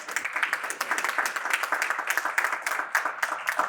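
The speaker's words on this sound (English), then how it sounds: "you can cheer for Paula, please." A school audience at a state-of-the-school event claps steadily, a close, lively patter of many hands with a few voices rising through it.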